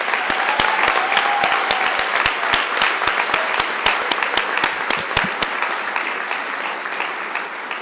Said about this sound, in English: let's give her and her whole team another huge round of applause.